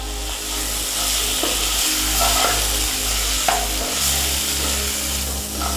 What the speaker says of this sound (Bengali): এবার এটাতে আরেকবার একটু নেড়ে নেব